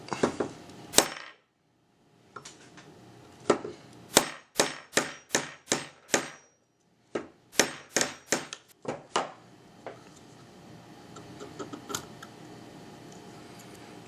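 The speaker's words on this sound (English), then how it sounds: "Put our punch on the hammer pin and go ahead and pound that out" Steady, evenly spaced hammer taps on a punch driving out the hammer pin of an EAA Tanfoglio Witness Elite pistol, sharp metallic knocks close by in two runs with short pauses between, over a faint background.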